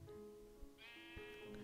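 A black sheep in the video game Minecraft bleats in a single wavering, nasal cry over a low, steady game background, fairly faint and with no talking.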